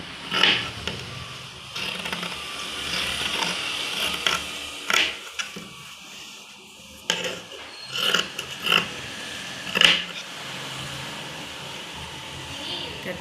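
Scissors cut cloth for a small child's dress, making intermittent close snips and crisp rustling with quiet pauses between cuts.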